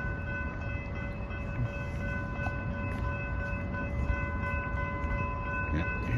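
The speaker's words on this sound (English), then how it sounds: "There's a train coming." A TEXRail train rumbles steadily with a sustained horn tone sounding throughout, the low roar of rolling cars holding constant as it comes near.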